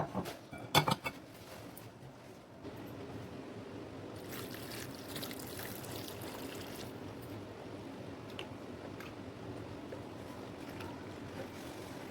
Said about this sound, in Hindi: इसको हमने अच्छे से वॉश कर लेना है पानी से